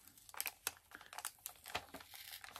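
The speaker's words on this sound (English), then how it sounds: "see if I can remove this annoying sticker" A big sticker being peeled off the front of a comic book, close and quiet, with a run of irregular crinkling and tearing bursts.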